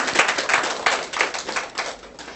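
A class claps to open a lecture, a short burst of scattered, close handclaps that thins out within a couple of seconds.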